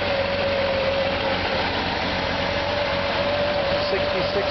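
A Chevrolet Corvair Corsa 140 engine idles smoothly and evenly, a steady low rumble with a faint constant tonal hum running through it.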